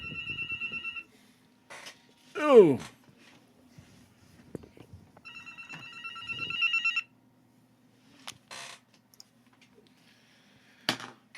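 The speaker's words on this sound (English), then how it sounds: "Look, you hear my phone ringing?" A landline house phone rings in short repeated electronic trills, two bursts of ringing separated by a pause, fairly faint against a quiet room with scattered clicks and a brief exclamation from a man.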